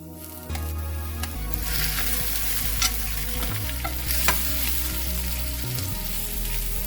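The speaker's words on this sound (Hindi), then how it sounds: "अब इसमें हम ग्रीन चिली डाल देंगे, डाल के इसको हम फ्राई कर लेंगे।" Green chilies frying in a pan for a Pakistani fried potato slice dish, with steady loud sizzling and repeated stirring scrapes throughout and no talking.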